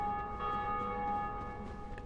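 The Bell of Awakening in the video game Dark Souls rings in one long, sustained metallic tone that hangs steadily without fading, moderately loud over a dense low rumble, with no talk.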